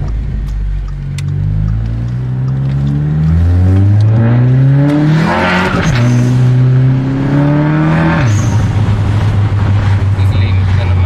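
A car engine runs cold and revs up again and again until it strikes the rev limiter and cuts out. Rising engine tones climb in steps, hold loud, then drop sharply, close and continuous throughout.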